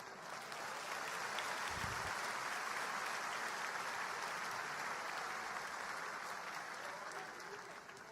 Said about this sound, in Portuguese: Dê um aplauso aos nossos